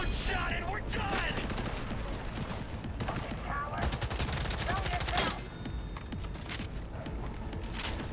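Dense, continuous gunfire in the futuristic shooter Cyberpunk 2077, rapid shots and bursts layered over game noise and voices talking throughout.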